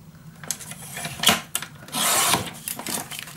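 Craft board is cut along a scored groove with a knife in short rasping strokes, close and dry, with a longer scrape near the end.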